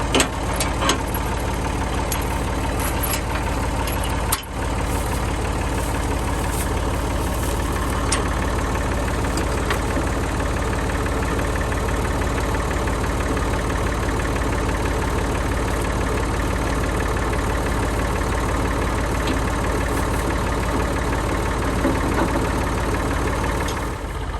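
A tractor engine runs steadily near a garden plot, a continuous loud rumbling drone with a slight knocking texture, close by and unbroken for the whole stretch apart from a brief dip, with no talk over it.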